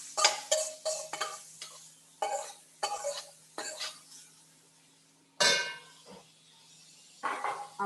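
Onions, ginger and garlic being stir-fried dry without oil in a brazier pan: a series of scraping, clattering strokes of a utensil against the pan, close and fairly quiet, in irregular bursts separated by short pauses.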